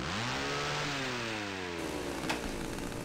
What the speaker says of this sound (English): Oh, it's a chainsaw.